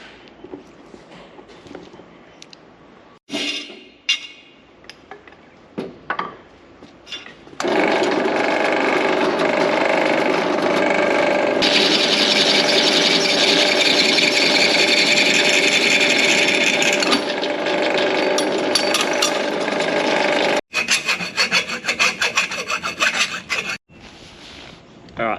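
Power tool cutting a slit in a tonneau cover on a Ford Ranger Raptor, a harsh rasping grind running loud and continuous for long stretches, with brief pauses and bursts before and after.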